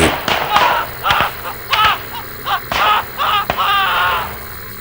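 Several sharp gunshots crack out irregularly amid shouting and screaming voices, loud and chaotic.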